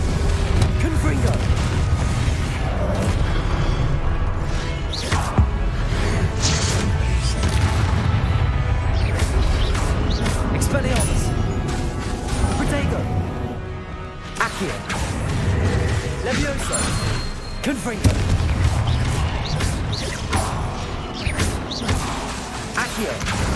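Fiery Confringo blast spells from the Hogwarts Legacy video game crash and boom repeatedly amid dense battle effects and a busy game soundtrack, with someone talking over the action throughout.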